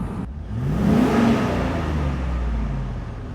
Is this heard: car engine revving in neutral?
yes